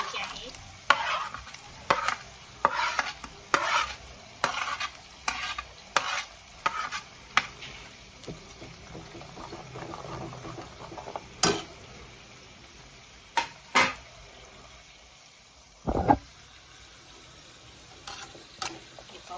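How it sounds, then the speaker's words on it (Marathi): Fish curry gravy being stirred in a pan on low gas, with a spoon scraping in repeated short strokes over a soft background sizzle, the strokes thinning out later with a few sharp isolated knocks near the end. "गिरवीला हलवत राहावं लागतं तोपर्यंत आपलं तिकडे फ्राय होईल मस्त कमी गॅसवर होऊन"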